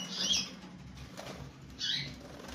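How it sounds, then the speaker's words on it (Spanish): Small pet birds flutter, not yet separated into their own cages, giving two brief bursts of soft wing flapping close by with quiet rustling between them. "Ahí tenemos los pajaritos que todavía no están separados"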